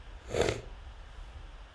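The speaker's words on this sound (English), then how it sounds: "I apologize, man, that sniffle." A man gives a single short sniffle through his nose, close and fairly soft, lasting about half a second, followed by quiet room tone with no talking.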